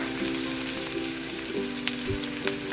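Onion with crushed ginger and garlic frying in a pan, an even close sizzle with faint occasional stirring taps and a low steady hum beneath.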